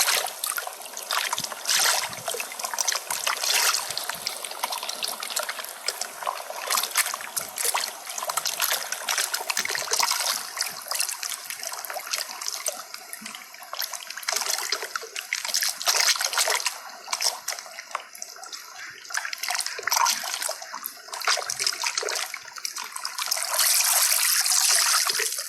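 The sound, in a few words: water coming out through an opening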